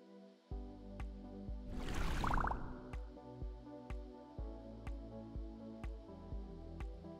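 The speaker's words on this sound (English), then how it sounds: "I will wash my hands with no soap. So basically rinse and then dry." Hands rinsed under running water without soap, a brief splashing rush followed by a steady, regular series of close drips falling into a basin.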